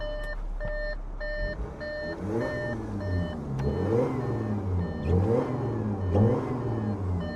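A BMW F30 engine, held to about 1,500 rpm by a factory limit, revs up repeatedly in rising and falling surges, close by, while a steady electronic beeping sounds in the background.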